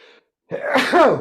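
A single sharp sneeze bursts out after a short pause, preceded by a faint murmur.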